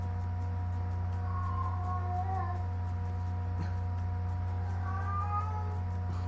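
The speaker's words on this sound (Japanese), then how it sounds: "お外のことね窓越しにこうなんかうにゃうにゃ言ってます。" A cat outside a window meows in drawn-out, wavering cries, two separate bouts, heard faintly over a constant low electrical hum.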